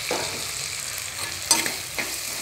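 Prawn masala sautéing in a pan, a steady sizzle with a spoon scraping and stirring at a few points, close and fairly even with no voices.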